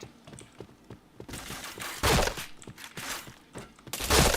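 Bursts of gunfire ring out in the online shooter Point Blank, scattered single shots turning into louder rapid volleys toward the end, loud and close, with no talking.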